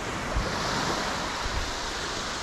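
Ocean surf on a beach in Portugal, a continuous loud broadband roar of breaking waves with heavy wind buffeting the microphone and no voices.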